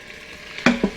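Flour being stirred into vegetable oil and meat juices for a chicken and sausage gumbo in a pressure cooker, two short scraping strokes of a utensil against the pot, close and clear with no talk.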